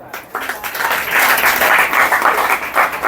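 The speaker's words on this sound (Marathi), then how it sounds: "कर्त्यासाठी टाळ्या वाजवा" An audience applauds at a birthday felicitation ceremony held at an old-age home, a dense wash of many hands clapping that swells quickly and stays steady, loud and close.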